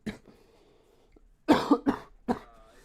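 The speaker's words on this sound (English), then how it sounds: "Man, it hurts when I cough," A man who is feeling ill lets out a quick run of about four harsh, close coughs after a quiet pause, with faint throat sounds at the start.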